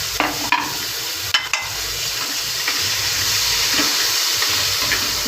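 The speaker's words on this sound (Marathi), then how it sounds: "जिरे घातले मी त्याच्यामध्ये. थोडंसं मिरच्या" Cumin seeds and chillies sizzling in hot oil for sabudana khichdi, a loud close hiss that swells after a few early clatters from stirring and then runs steadily, no talking.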